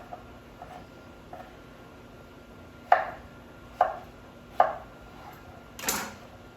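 Knife chopping food on a cutting board in a rough-chop cooking class: a couple of faint light taps, then three sharp, well-spaced thuds and a final softer stroke, close and otherwise quiet.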